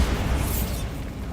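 A Bombarda blasting spell from Hogwarts Legacy goes off in a cave, a single loud, dense burst with a low rumble that fades away gradually.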